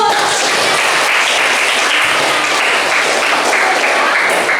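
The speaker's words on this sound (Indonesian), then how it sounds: "oke, aplaus dulu" A classroom group claps steadily together, a dense, even burst of applause that holds at full strength throughout with no voices over it.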